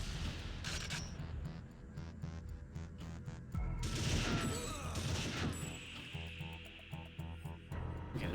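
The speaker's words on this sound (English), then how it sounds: "Whoever's throwing those grenades, cool it" Grenade explosions and bursts of gunfire in a retro shooter video game, a dense, continuous barrage of booms and shots filling the whole stretch, with a heavier blast midway and scattered sharper cracks toward the end.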